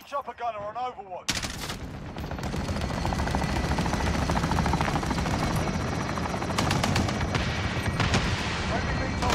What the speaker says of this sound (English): Friendly chopper gunner on Overwatch.